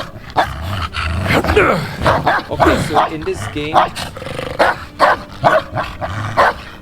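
Dog barking in Indiana Jones and the Great Circle on PS5 Pro, loud repeated barks and growly yips mixed with game sounds while someone talks over it.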